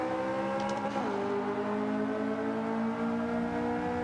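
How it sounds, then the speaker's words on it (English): Race car in the Forza 5 video game downshifting under braking, the steady engine whine dropping sharply in pitch once and then holding a lower, even drone. "Every time you hear a downshift"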